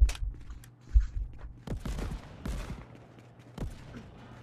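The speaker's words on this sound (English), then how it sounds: "It's my first time using this sniper." Sniper rifle fire in a VR multiplayer gun game: several sharp, distinct shots crack out at irregular intervals over a low background, fairly close and moderately loud.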